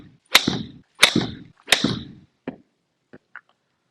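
Three sharp golf shots as a club strikes a ball during a wedge gapping session, evenly spaced about a second apart and loud and close, followed by a few fainter clicks and taps.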